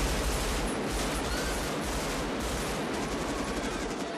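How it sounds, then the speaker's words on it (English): Dense machine gun and rifle fire from a bank robbery shootout in the film Heat, a loud continuous fusillade of overlapping bursts and shots echoing through a city street for the full four seconds. "gunfire erupts from all directions as the cops swoop in"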